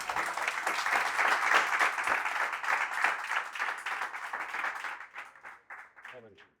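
Audience applause at a red prawn cooking workshop in a fishing port in Almería, steady and full for about five seconds, then thinning into scattered claps as a voice begins speaking near the end.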